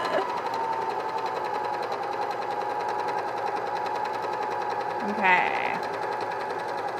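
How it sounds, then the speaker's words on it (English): A cover stitch sewing machine runs steadily and continuously at close range, with a brief spoken word near the end. "I need my right leg to press the pedal of my new cover stitch."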